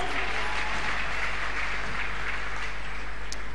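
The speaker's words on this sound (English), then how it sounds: "Let's clap hands for Jesus once more." A church congregation at a Sunday testimony service claps for Jesus, a dense, continuous wash of many hands clapping at once, loud and sustained throughout with no voices.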